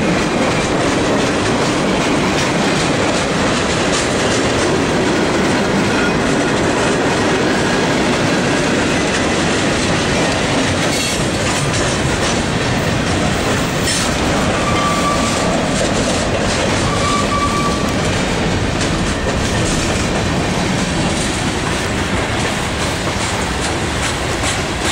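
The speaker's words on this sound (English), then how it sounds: "fairly long train today, isn't he?" A long CSX manifest freight train led by ET44 and AC44 locomotives rolls steadily past close by, a constant loud rumble with rhythmic clickety-clack of wheels over rail joints and occasional faint squeals.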